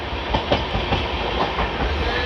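Dhauli Express passenger train running between Puri and Bhubaneswar, a loud continuous rumble with rhythmic wheel clatter over rail joints, heard close from inside the moving train.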